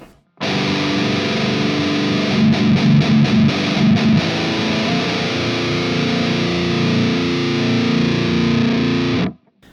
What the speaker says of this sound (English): So this is what the guitar sounds like.